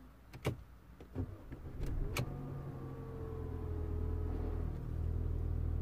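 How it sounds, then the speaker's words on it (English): A 1.8T engine in an Audi A4 B8 with a hard-starting fault cranks briefly and fires, settling into a steady low idle rumble, preceded by a few sharp clicks and knocks. "The car started immediately, pretty much."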